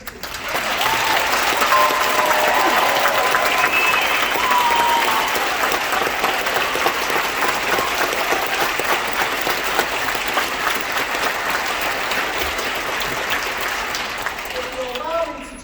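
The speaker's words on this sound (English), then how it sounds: "I'd like you to join me in just applauding them for that" An audience applauds an honor band after its concert, a loud, dense, sustained ovation of many hands that fills the hall evenly and tapers slightly at the end.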